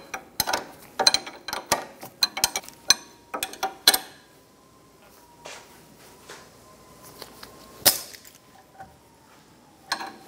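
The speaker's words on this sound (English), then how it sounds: "We're going to use a pair of locking pliers to grab the shoulder on the back and then snug down the nut." Locking pliers clamp a ball joint stud on a 2003-2007 Honda Accord while a nut is snugged down, giving close, sharp metallic clanks and clicks in uneven bursts with quieter gaps.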